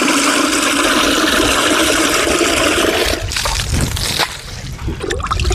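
Fermented organic liquid solution pours steadily into a farm drum with a continuous splashing gush that thins into trickles and drips toward the end.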